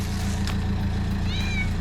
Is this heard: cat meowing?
yes